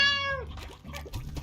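A single cat meow from the video game Slime Rancher, a clear tonal call at the start that fades into light game background noise.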